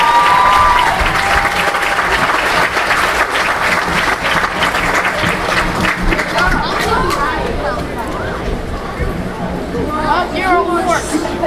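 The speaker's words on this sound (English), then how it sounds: "One more round of applause for them" Loud audience applause for fourth-grade students at a school graduation ceremony, sustained for several seconds before thinning into crowd chatter and murmuring voices.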